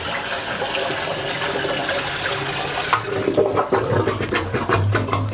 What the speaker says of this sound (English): you could always flush your toilet with a bucket of water